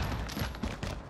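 Dense automatic rifle fire in Call of Duty Modern Warfare, played on Xbox Series X, a continuous loud fusillade of overlapping shots over about a second with no pauses.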